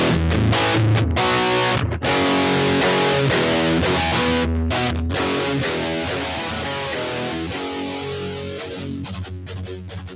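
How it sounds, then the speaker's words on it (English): An electric guitar plays loud power chords through heavy distortion, the chords changing in quick succession. The sound is sustained and dense for the whole stretch, with no talking. "So let's get back to the distortion."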